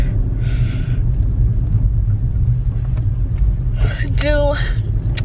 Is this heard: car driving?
yes